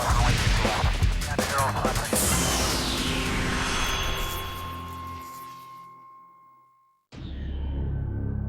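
Crossair flight 3597 cruises at 27,000 feet on its route from Berlin to Zurich. A broad, steady roar of jet noise carries a slowly falling tone and fades before cutting off, then the roar returns abruptly near the end.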